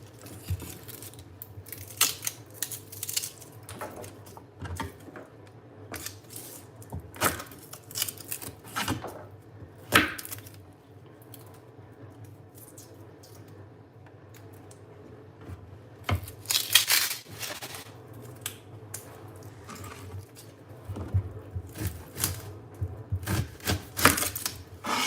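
Garlic and onion being chopped with a knife on a board for a cabbage sauce, irregular clusters of sharp taps separated by quiet gaps, close and moderately loud.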